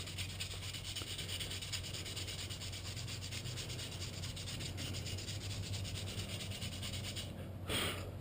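Glazed brake pads from a Yamaha TW200 motorcycle being rubbed with 180 grit sandpaper: a steady, rapid back-and-forth scratching, close and continuous, ending with a brief louder scrape.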